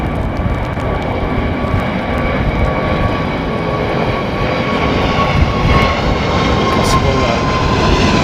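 A Qatar Airways jet climbs out from Heathrow Airport, a loud, sustained jet engine roar with a whining tone that holds steady throughout, with faint talk underneath.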